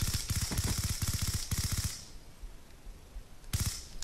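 The S12 shotgun in Call of Duty: Black Ops 2 fires a rapid string of about a dozen sharp, close blasts. A short pause follows, then one more burst of shots.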